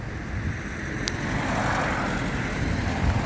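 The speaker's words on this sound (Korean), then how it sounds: "지금 차들이 지나가고 있어서" Cars pass on a road beside a dairy farm at dusk, a steady broad rumble of tires and wind over the full stretch, fairly loud and continuous with no talk.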